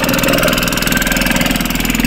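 Auto rickshaw engine running while being driven, a steady close mid-pitched throb with a fast, even knocking pulse throughout.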